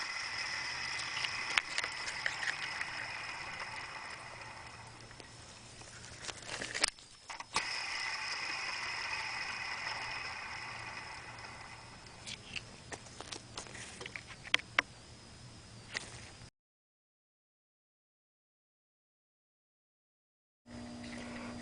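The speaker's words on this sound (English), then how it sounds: "This is what a brand new idler pulley behaves and sounds like once it's remounted onto the engine." A brand-new idler pulley runs on the accessory drive of a BMW 330i E46 engine, on the water pump, alternator and power steering side. A steady close mechanical whir carries light ticking, then cuts to silence before briefly resuming.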